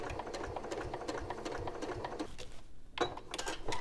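A sewing machine stitches in the ditch along quilt binding, running in a steady, rapid mechanical patter with a brief pause before it starts again, close and moderately quiet.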